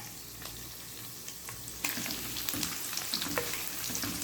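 Almonds sizzling in hot oil or ghee in a pan for sweet zarda rice, a steady close frying hiss with occasional stirring clicks, growing louder partway through.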